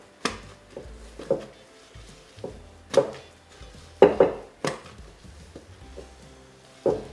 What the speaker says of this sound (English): she's actually pressing the side of the bowl with her spatula